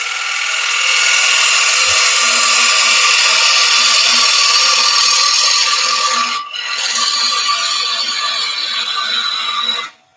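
Woodturning gouge cutting a wooden potpourri pot blank on a spinning lathe, a steady loud scraping hiss with a faint low hum, briefly breaking off once partway before resuming and stopping at the end.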